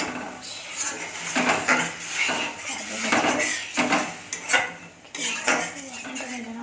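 Dishes, pots and utensils being washed, with repeated close clinks, clatters and scrapes of metal and crockery in an uneven rhythm.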